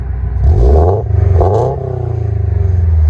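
Close, loud revving from a 2020 Subaru BRZ 2.0L fitted with a Perrin cat-back dual exhaust: two quick throttle blips rise and drop, then a steady raspy idle thrums on.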